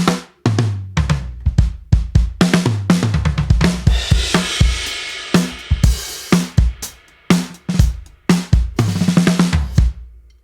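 A drum kit plays a steady groove alone, with punchy kick and snare hits and a wash of cymbals, close and loud.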